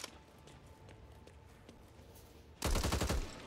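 Rapid automatic gunfire in Back 4 Blood bursts out loudly near the end, following quieter footsteps and faint game ambience, with no speech.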